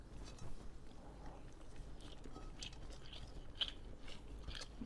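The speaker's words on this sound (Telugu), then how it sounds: "నేను ఫస్ట్ కాకరకాయ ఫ్రై." Crunchy bitter gourd fry being bitten and chewed up close, a quiet run of irregular crisp crunches and soft mouth sounds, no talking.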